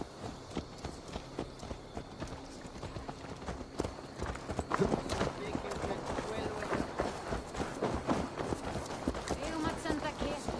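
Steady clip-clop of horse hooves at a trotting pace in Assassin's Creed Valhalla, with clattering game sounds and voices layered over it throughout.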